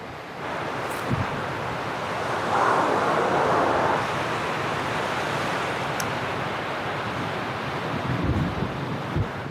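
Wind rushes over a beach as the surf of a fast incoming big tide rolls in, a broad, continuous roar with gusty microphone buffeting and a few low thumps.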